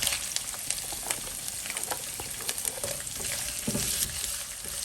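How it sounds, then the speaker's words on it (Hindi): Onion and carrot sauté with chili flakes in a hot oiled pan, a steady close sizzle with soft stirring scrapes and no talk. "इसको हल्का सा सौते करके हम प्याज और गाजर इसमें डाल देंगे।"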